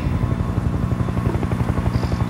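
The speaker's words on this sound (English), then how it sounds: "Helo inbound from your 6-3-1." A helicopter in the shooter game Sniper Ghost Warrior 2 approaches with a loud, steady rotor thump that pulses rapidly and evenly, with no talking over it.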